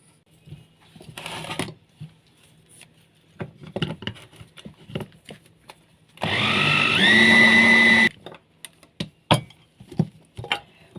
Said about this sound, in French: Je vais incorporer le beurre dans la farine avec cet appareil. Avec le hachoir,